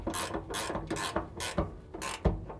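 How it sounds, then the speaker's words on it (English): A ratcheting clamp is tightened to hold a body bracket on an Audi TT kit car: a quiet, close series of quick ratchet clicks in short repeated strokes, with no one talking. "Just going to clamp this up in place."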